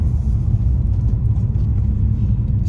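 Low, steady engine rumble from inside a used manual car driving up a road, a deep droning hum with no speech.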